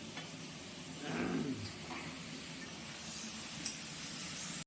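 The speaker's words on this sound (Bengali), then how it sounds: "চিংড়ি মাছ ভাজা" Prawns fry in a pan with a steady, even sizzle and hiss, close and continuous, with a faint clink of a utensil near the end.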